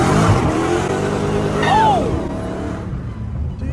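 Chrysler car engine revving hard under acceleration, a loud sustained roar with rising and falling pitch from inside the cabin, partly masked by road noise, with a brief exclamation from a passenger.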